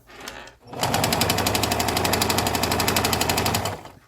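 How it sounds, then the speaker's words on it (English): A sewing machine stitching tassels onto a feast day shirt starts up after a brief pause, then runs as a fast steady mechanical rattle, loud and close, before stopping. "I like to put tension on the fabric to make sure that everything is being stitched straight."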